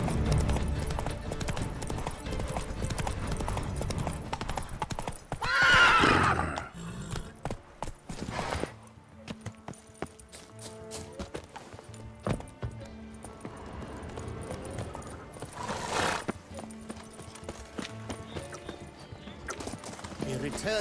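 Roach, the horse in The Witcher 3: Wild Hunt – Blood and Wine, gallops with a steady clip-clop of hooves and gives two loud whinnies, while game characters talk over it.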